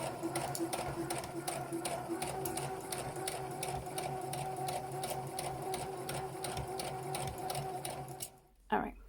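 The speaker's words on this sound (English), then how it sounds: "Same thing on the other side, and then we'll sew them together." A sewing machine stitches t-shirt seams while reducing a 2XL shirt to a large. It runs with a fast, steady mechanical chatter close by, then stops with a short clunk at the end.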